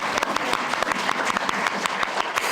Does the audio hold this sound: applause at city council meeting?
yes